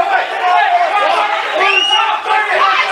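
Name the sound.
football crowd complaining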